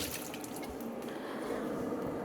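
Tomatoes rinsed under a running kitchen tap, a steady close splash and trickle of water with no talking.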